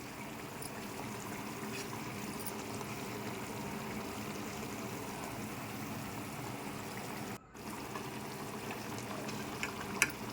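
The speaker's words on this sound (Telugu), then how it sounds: "ఇప్పుడు కొంచెం కొత్తిమీరను కూడా వేసుకొని ఇంకొంచెంసేపు బాగా ఉడికించండి." Telugu-style fish curry simmering in a pot: a steady, faint, continuous bubbling hiss that runs unbroken with only a brief dropout, no voices over it.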